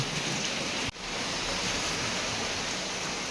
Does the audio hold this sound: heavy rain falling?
yes